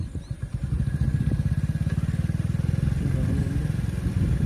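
A motorcycle engine idles with a rapid, even put-put pulse, then is put in gear and ridden off, the beat tightening and growing steadier, close by and fairly loud.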